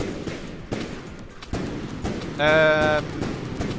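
Primary ship cannons fire HEAT shells in a barrage during a naval battle in the game From the Depths, heard as several separate booming thuds over a steady rumble, with a brief bright tonal whine partway through.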